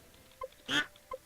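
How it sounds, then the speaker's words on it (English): A duck in the Stardew Valley farming game gives one clear, mid-loud quack in the middle, with faint chirpy game tones before and after it and no talk. "Ducks quack, though."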